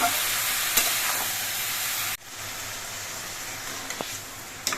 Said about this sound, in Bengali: এবার নুন হলুদ দিয়ে চালকুমড়োটাকে নেড়ে চেড়ে মিশিয়ে নিতে হবে